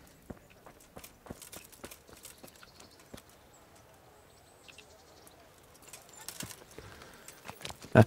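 Horse hooves clip-clop at an unhurried walk in the medieval game Kingdom Come: Deliverance, faint irregular knocks over quiet outdoor ambience, growing a little louder toward the end.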